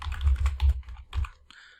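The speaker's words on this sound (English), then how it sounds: "let's start typing that in" Brief burst of typing on a computer keyboard while entering a place name into a marketing search field, a few quick close keystrokes over about a second, then quiet.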